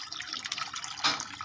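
Water poured into a frying pan with crabs and fish, a steady hissing splash lasting the whole moment and swelling louder near the end, with no voices.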